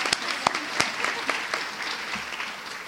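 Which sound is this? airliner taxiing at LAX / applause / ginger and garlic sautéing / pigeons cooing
applause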